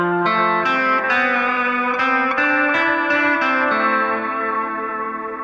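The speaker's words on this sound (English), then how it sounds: "when you play sustained notes, it creates this really lush sound that's different to a normal echo because the notes all start to kind of blend together" Sustained guitar notes ring through a lush echo effect, each new note stacking and blending into the repeats for a big, grand wash of sound that fades slowly at the end, with no voices.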